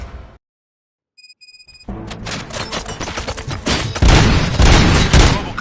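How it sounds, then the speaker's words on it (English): Gunfire in the video game Robocop: Rogue City: after a moment of silence and a short electronic beep, rapid shots and heavy impacts erupt and build into loud, dense bursts of automatic fire. "Gunshots?"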